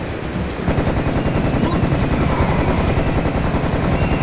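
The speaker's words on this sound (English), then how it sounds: "Oh, the Tommy gun. Perfect. I love the Tommy gun." Rapid, sustained Tommy gun fire in the video game Serious Sam, a loud continuous rattle of bursts that starts after a brief quieter half second and keeps going to the end.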